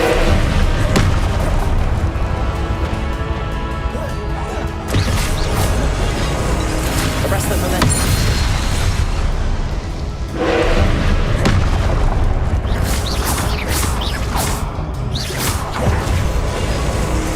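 Fiery Confringo blasts from combat in Hogwarts Legacy, loud booming impacts and crashes layered over dense continuous game noise, with a few sharp bursts standing out near the middle and end.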